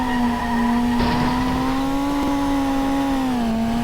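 A car drifting in the Indian Theft Auto video game, a sustained steady tire squeal with a constant engine whine, loud and close, pitch wavering slightly throughout with no talk.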